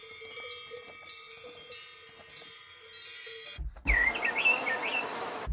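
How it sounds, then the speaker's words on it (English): Cowbells from an outdoor sound sample collection ring out against a background of birds and insects, with the clip shifting abruptly into a louder, dense outdoor ambience near the end. "cowbells,"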